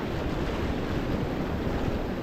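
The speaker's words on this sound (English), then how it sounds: "You see, I got water coming up behind me." Steady, loud ocean surf rushing in on an Oregon beach during surf perch fishing, a continuous broad wash of breaking waves close by with wind buffeting throughout.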